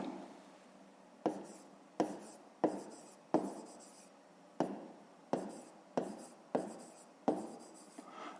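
A maths solution is written by hand in short strokes with sharp taps, about ten evenly spaced touches, close and quiet, with no speech.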